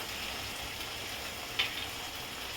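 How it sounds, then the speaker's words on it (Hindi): Tomato paste and spices fry in a pan with a soft, even sizzle, a quiet continuous hiss with one small clink partway through. "मसाले का कच्चापन निकलने तक इसे मैं भून लेती हूँ।"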